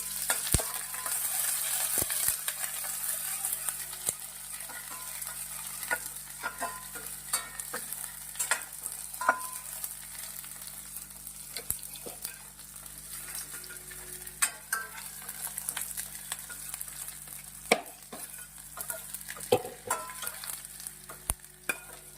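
Bay leaf, cumin seeds and a spice paste with a whole onion fry in a pan for a veg dish, a steady close sizzle running throughout with occasional stirring clinks and scrapes, no voices.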